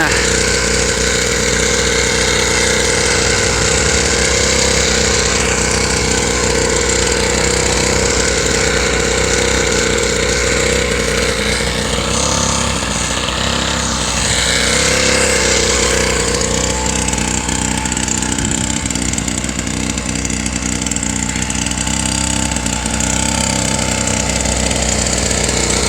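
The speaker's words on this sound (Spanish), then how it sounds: "La moto de gasolina." Gasoline motocross bike engine ridden by a child learning to ride, a loud continuous buzzing drone that rises and falls in pitch with throttle, steady throughout with no break.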